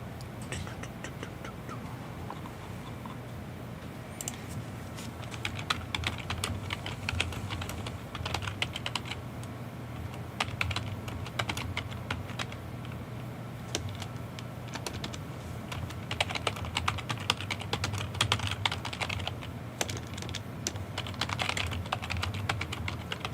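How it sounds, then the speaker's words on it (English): Continuous typing on a computer keyboard with the microphone angled away from it, producing irregular bursts of soft, close key clicks, alone without speech. "So if the typing is too loud, let me know."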